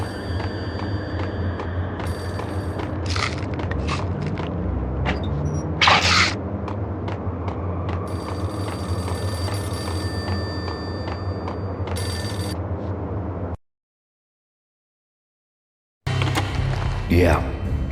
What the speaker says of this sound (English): Payphone started to ring.